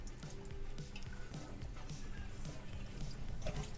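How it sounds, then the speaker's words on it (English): Cold tap water running over raw chicken being rinsed in a home kitchen, a quiet trickle with drips and wet splashes, fairly close. "Now I'm gonna wash the chicken and just get some cold water running over it"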